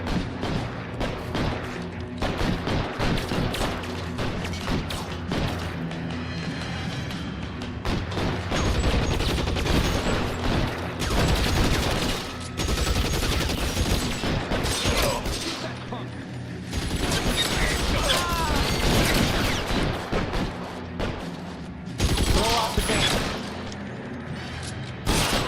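Bursts of gunfire and heavy mechanical clatter fill a busy game soundscape from L.A. Noire, with loud, dense shots repeating in waves over about twenty-five seconds amid constant background noise.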